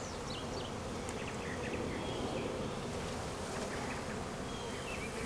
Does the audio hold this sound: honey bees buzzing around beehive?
yes